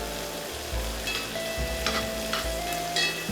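Butter, thyme and rosemary sizzling in a hot pan alongside a seared steak, a steady dense crackle with a few brief scraping stirs, close and loud with no talking.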